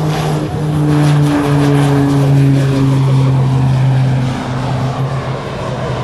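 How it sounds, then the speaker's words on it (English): An Irish-built Shorts Sherpa propeller aircraft passes at an air national guard open house and airshow, a loud droning propeller hum that swells and fades as it flies over, with no talk. "There's the Irish-built Shorts Sherpa."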